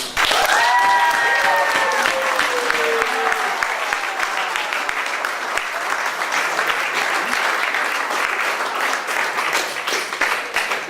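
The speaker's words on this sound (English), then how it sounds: "I'd like everyone to give Eric a round of applause" An audience at a fundraiser bursts into a round of applause, a loud, dense patter of many hands clapping that holds steady for several seconds.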